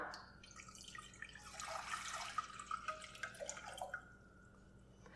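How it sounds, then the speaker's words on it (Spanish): A litre of water poured into a pot on a kitchen stove for café de olla, a faint running, splashing flow that swells in the middle then tapers off with dripping. "Vamos a encender el fuego y vamos a agregar 1 litro de agua."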